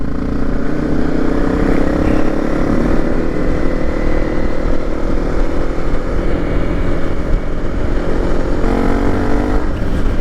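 Honda CRF 300 Rally motorcycle engine droning steadily while riding in misty Kent, a continuous loud hum with some wind noise and no talking.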